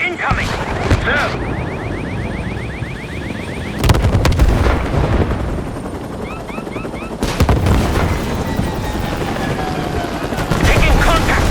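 Small arms gunfire in Call of Duty Black Ops 6 rattles in rapid bursts amid heavy explosions and helicopter rotor noise, loud and close, with shouting voices in between.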